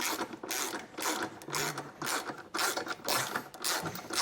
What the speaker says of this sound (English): Now we'll go through and just snug down all of our hardware.